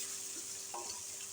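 Green chillies and masala frying in a pan for matar pulao, a steady soft sizzle with a few faint stirring scrapes, close and quiet, with no talking.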